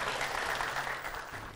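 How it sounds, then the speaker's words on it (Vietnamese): An audience at a televised dating show claps together in a sustained round of applause that fades toward the end and is cut off by a brief loud bump. "Xin khán giả một tràng vỗ tay thật lớn đây ạ."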